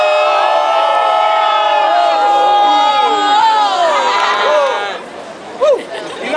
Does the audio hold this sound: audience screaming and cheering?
yes